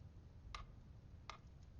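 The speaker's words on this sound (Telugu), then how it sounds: "ఈ టికింగ్ శబ్దం వినపడుతుందిగా" A clock ticking in a quiet, dark room, two crisp isolated ticks spaced under a second apart against a faint low hum, no voices.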